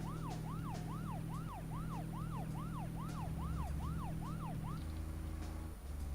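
Police-style car siren in the video game Deadly Premonition, a fast repeating wail of about a dozen rising-falling sweeps over a steady engine drone, loud and continuous before cutting out near the end.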